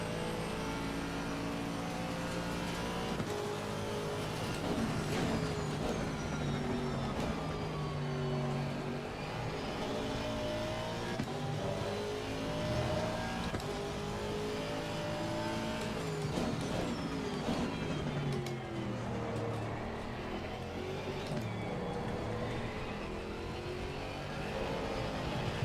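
The V8 engine of an Aston Martin AMR race car in Assetto Corsa Competizione at a wet Silverstone drones steadily, its pitch rising and falling with repeated acceleration and shifts, loud and continuous.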